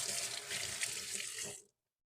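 Water from a running kitchen tap splashes steadily as hands are rinsed while preparing stuffed sole, a close, even rush that cuts off abruptly near the end.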